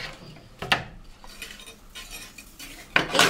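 A piece of wire is picked up and handled while making a plastic-pipe shelf, giving a few light metallic clinks and rattles spaced across a quiet background, with no talking.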